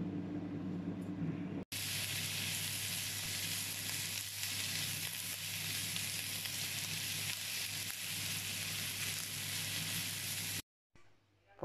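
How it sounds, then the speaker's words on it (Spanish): Canned mushrooms sauté in a frying pan with a loud, steady, close sizzle that runs for several seconds, then cuts off abruptly. "tengo también estos champiñones de bote que lo voy a rehogar un poquito así en la sartén"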